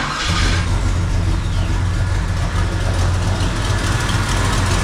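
A 1956 Chevrolet Bel Air with a carbureted engine runs loud, close and steady, with a constant rumbling drone and no pauses.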